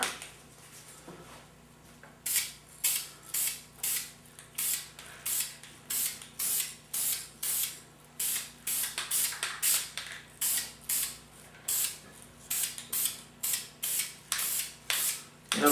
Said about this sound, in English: this time I'm going to give it a little bit heavier spray